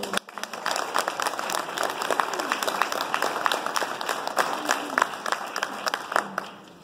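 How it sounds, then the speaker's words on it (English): Applause for staff and paramedics at a paramedic pinning ceremony, a steady round of clapping from a seated audience lasting several seconds before fading out, with a few brief voices mixed in. "Let's give them a round of applause."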